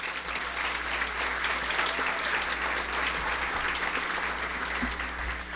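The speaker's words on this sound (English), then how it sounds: "Once again, give her a round of applause" An audience at a State of the City address gives a steady round of applause, many hands clapping evenly for several seconds against a low room hum.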